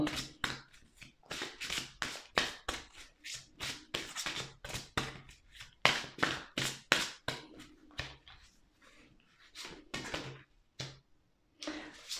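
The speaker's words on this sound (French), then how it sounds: "Je vais tirer 3 cartes." Tarot cards are shuffled and drawn by hand in a rapid run of crisp, close riffling flicks and taps, some in quick clusters and some spaced apart, with short pauses between.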